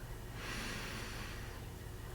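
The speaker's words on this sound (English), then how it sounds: "Breathing in" A person draws one slow, deep breath in through the nose, a soft airy hiss swelling and fading in a quiet room, with no speech.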